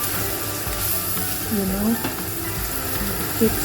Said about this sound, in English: I make my hot oil, then I put my washed rice, then you keep